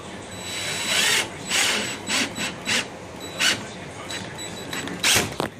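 A power drill drives screws while an egg incubator is assembled, giving several short whirring bursts spaced unevenly over quiet handling noise.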